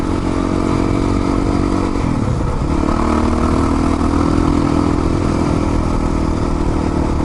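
Yamaha WR450F dirt bike riding through the Coconino National Forest, its engine droning loud and steady with rattling chassis clatter and a brief throttle dip and recovery midway.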